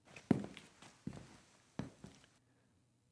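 Footsteps in the video game Scarlet Hollow walking up to a tea room door, a handful of soft, uneven steps that stop before a short quiet gap and a final thump.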